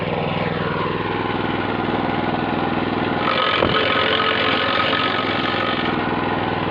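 Garden branch shredder running steadily and loudly nearby, its motor droning throughout with a brief grinding crunch midway as a thin branch is fed in and chipped; no talk.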